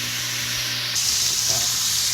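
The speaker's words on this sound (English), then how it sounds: "So when you put all these ribs in, it's going to take away from the heat." Pork ribs brown in a hot pan, a loud, steady hiss and sizzle that swells slightly partway through, heard up close with no talk.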